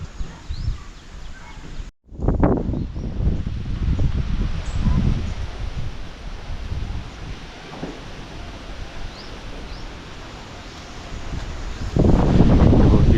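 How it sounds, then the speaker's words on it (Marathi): Strong wind blows outdoors at a homestay, a continuous loud rushing roar buffeting the microphone with rustling gusts that swell again near the end. "पण तुम्हाला हवा दिसते किती जोरात आहे बघा"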